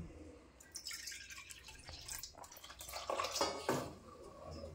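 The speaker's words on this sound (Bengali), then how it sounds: "একটু জল দেব সামান্য" A small splash of water goes into soaked rice dosa batter in a bowl, faint drips and trickles in a few soft bursts, close by and quiet.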